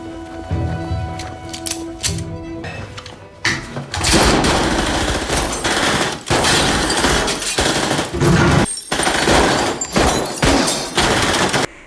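A bar shootout in the film The Money: rapid gunfire and bursts of automatic shots crackle loudly and densely, mixed with soundtrack tones early on, with short gaps between volleys and no voices.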